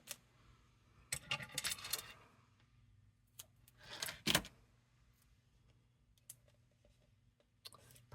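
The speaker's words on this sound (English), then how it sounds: "Sorry for all the noise from my scissor charm." Small metallic clicks and light jingling from a scissor charm come in scattered bursts, close by and fairly quiet, with a few sharper taps near the middle.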